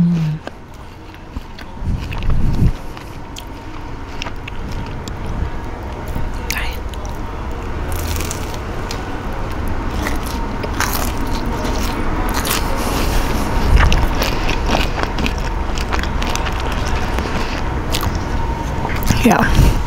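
Someone bites into a crunchy upside-down puff pastry square, and a series of crisp, crackling crunches and chewing sounds follow at close range for about twenty seconds.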